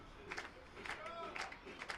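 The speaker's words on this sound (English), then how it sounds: "Here comes the crowd at Athletic Kulture Stadium." Baseball crowd at Athletic Kulture Stadium during a Brantford Red Sox at Barrie Baycats game, faint distant cheering and scattered clapping swelling in short bursts over a low murmur.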